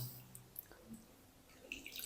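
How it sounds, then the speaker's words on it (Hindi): Faint water drips and soft trickles fall as grated potatoes are squeezed by hand, a few light drops scattered through a quiet kitchen. "इस तरीके प्रेस करेंगे हाथों से, सारा पानी निकाल देंगे।"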